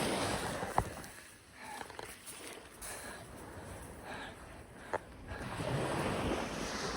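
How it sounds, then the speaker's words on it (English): Ocean surf rolling onto an empty Australian beach, a broad steady wash of waves with wind buffeting the microphone and a few faint knocks. "Welcome to the Gibeon Beach."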